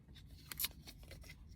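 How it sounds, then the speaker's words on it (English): Scissors snipping the plastic end tabs off a JT Gladiator phone mount tray: a few close, crisp cuts, one louder snap in the middle, with quiet handling noise between. "what you want to do is cut off the end tabs"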